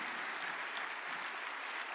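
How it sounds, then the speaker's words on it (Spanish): A church congregation applauds during a sermon, a steady wash of many hands clapping together at moderate distance, sustained without a break and with no talking over it. "Si estás de acuerdo, dar un aplauso en la casa del Señor."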